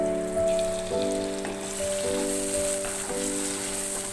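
Peeled, chopped tomatoes with onion fry in a pan for an achari bhindi dish, giving a steady, close hiss and sizzle that continues without pause under a soft background melody.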